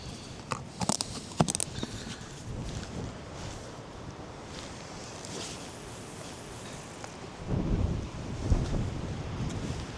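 Strong wind on the seashore at Šventoji during a storm while fishing for chub: a steady, loud buffeting rumble across the microphone, with a few sharp knocks early on and a heavier gust near the end. No one speaks.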